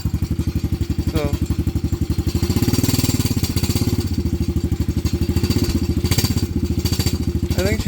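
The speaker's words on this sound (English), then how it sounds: "Okay, she's firing up, running. I don't know why the exhaust is rattling like that." A Venom Madix 125 motorcycle runs with a steady, rapid engine pulse and a loose, rattling exhaust clatter; the throttle swells slightly at times while the machine keeps running, close and alone without talk.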